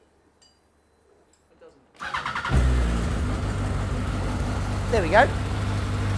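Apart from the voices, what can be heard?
Yamaha R1 engine starting in RX5 MC kit car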